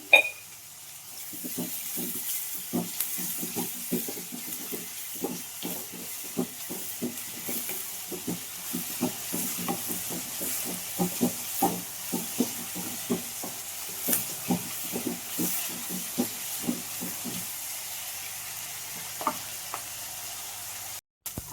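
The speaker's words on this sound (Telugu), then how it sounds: "ఆనియన్సు ఎర్రగా వేగాయి ఇలా మగ్గించుకోవాలి ఎర్రగా" Onions sizzle and fry in a pan with a spoonful of salt, a steady crackling hiss broken by frequent scraping stirs that come in close, repeated strokes for most of the stretch.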